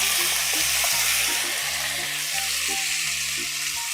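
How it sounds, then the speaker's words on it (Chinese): Shrimp shells and heads hitting hot oil in a wok, a loud dense close-up sizzle that holds steady with faint rhythmic low clunks underneath, no speech. "我们现在把我们的虾壳还有虾头给放入锅里"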